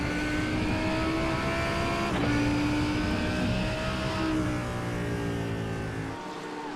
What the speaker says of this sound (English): What a fantastic sounding car the Lamborghini is.